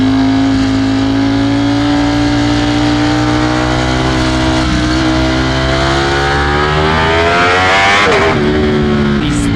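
A Ducati Streetfighter V4S motorcycle roars loudly and close, its engine pitch climbing steadily, then briefly dropping and surging again at a gear change near the end.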